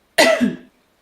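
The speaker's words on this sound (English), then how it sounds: "I just need to cough" A single sharp cough, loud and close, with a brief second burst trailing off, then silence.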